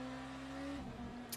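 Race car on the back straight at Monza in Le Mans Ultimate, a steady, fairly faint engine drone at high revs that drops in pitch as it lifts near the end, followed by a brief click.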